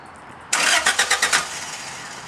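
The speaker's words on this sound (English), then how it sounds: "So just want to start the car up for you guys now." A Toyota Corolla running a converted E85 fuel kit cranks in several quick rhythmic pulses and catches, settling into a steady idle, heard close and loud after a brief quiet start.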